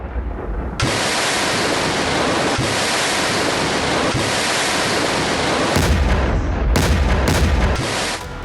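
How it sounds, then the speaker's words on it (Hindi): A TOS-2 thermobaric rocket launcher fires, producing a sustained, loud roaring blast that is followed by several sharp, choppy bursts near the end. "टॉस-2 थर्मोबैरिक रॉकेट लॉन्चर, आप देखिए रॉकेट लॉन्चर के जरिए खतरनाक थर्मोफ्लेयर सिस्टम"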